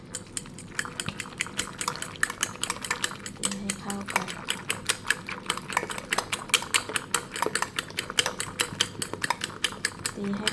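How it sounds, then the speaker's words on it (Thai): A whisk or fork beats eggs seasoned with fish sauce and light soy sauce in a bowl, fast rhythmic metallic clicks running throughout, with someone talking now and then. "แล้วก็ตีไข่อีกรอบหนึ่งนะคะ"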